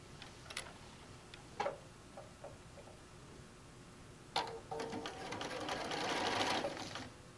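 A sewing machine stitches around a bag, first with a few soft clicks and short ticks, then a close, sustained mechanical whirr that builds during the last few seconds.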